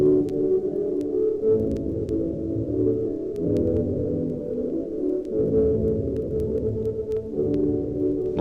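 Music from a 1955 vinyl record, filtered to keep only frequencies below 300 cycles, comes through as a muffled, throbbing low rumble with the melody barely discernible, continuous and moderately loud.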